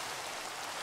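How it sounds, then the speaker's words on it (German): Steady rain in the Minecraft video game, a soft broadband hiss that stays even and continuous throughout at a faint level, with no voices over it. "jetzt fängt es auch noch an zu regnen"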